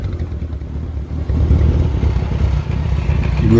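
A 1976 Australian-delivered Kawasaki Z900 motorcycle with Hagon shocks, its engine revved in short bursts, a steady close, loud mechanical rumble that swells and eases.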